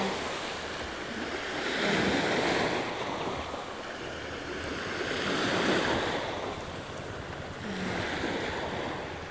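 Sea waves at Santander, Cebu, roll in as a steady roar of surf that swells and eases in about three slow surges, layered with wind rumbling against the microphone.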